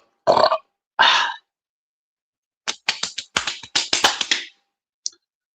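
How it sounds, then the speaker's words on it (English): Two loud, drawn-out burps close up, followed after a pause by a rapid burst of short clicking taps and one final tick, with silence between them. "Damn these burps."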